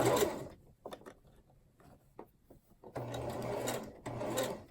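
A sewing machine back stitches a bandana handbag in short bursts, a rapid mechanical whir at the start and two longer runs near the end, with quiet clicks and handling between.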